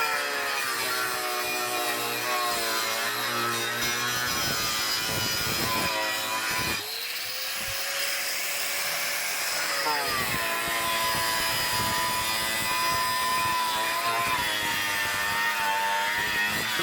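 Power saw cutting a 2x4 guide for a Promaster campervan build, a loud continuous whining drone that bogs down and dips in pitch midway, then rises again as the blade keeps cutting.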